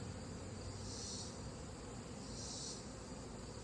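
A dense, steady buzz of honeybees at an open hive during an inspection fills the air, faint and continuous, with a slight rise in pitch now and then.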